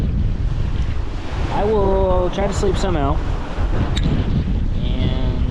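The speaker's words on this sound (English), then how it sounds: "with all these waves, we're hitting them hard and they're flying up over the boat" Strong wind roars and waves crash against a sailboat on the Thorny Passage, spray and surf churning loudly and continuously while someone speaks briefly over the din.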